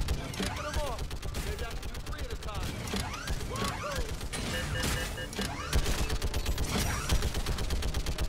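Rapid gunfire from a weapon in the video game Mass Effect 3, shots bursting repeatedly over game music and effects, with a voice talking throughout.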